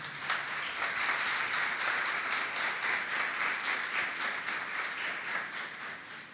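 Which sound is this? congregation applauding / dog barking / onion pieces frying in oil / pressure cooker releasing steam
congregation applauding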